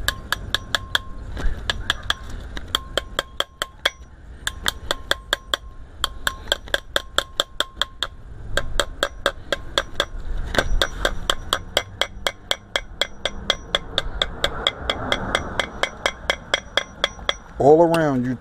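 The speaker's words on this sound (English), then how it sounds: "Now the seal just goes in with some light taps. You can use a hammer, walk it around the edge." Rapid light metallic hammer taps seating a wheel bearing seal on a Dodge Ram Van, in bursts, ringing sharply, with short pauses between runs and a faint voice near the end.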